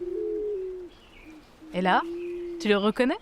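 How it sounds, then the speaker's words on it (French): Pink pigeon giving low drawn-out cooing calls, broken by two sharp rising call bursts, close by, while a voice speaks over part of it. "C'est le cri du pigeon rose."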